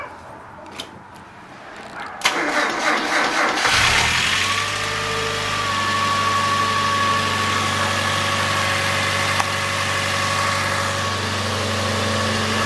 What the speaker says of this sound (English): This one got his car running.